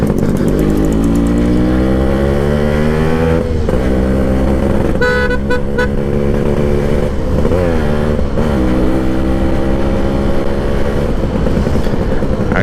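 A Yamaha RX135 two-stroke motorcycle revs loudly and continuously while riding, its harmonic engine note rising and falling through repeated throttle changes and gear shifts, close and steady with no talk.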